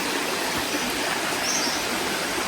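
Water of a small river near a chalet in Baling, Kedah rushes steadily, a dense, even broadband wash with no pauses, close and fairly loud, with no voices over it.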